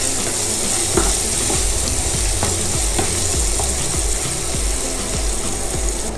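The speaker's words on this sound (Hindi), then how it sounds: "अब इसको फ्राई करेंगे।" Two small finely chopped onions frying in a pan for spicy dum aloo give off a steady, dense sizzle, with soft scraping stir strokes recurring throughout and no voices.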